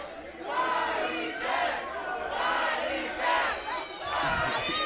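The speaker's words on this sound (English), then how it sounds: "The crowd chanting body bag." MMA arena crowd chanting "body bag" in rhythmic shouted waves during a fight, a large mass of voices rising and falling in repeated bursts, loud and reverberant.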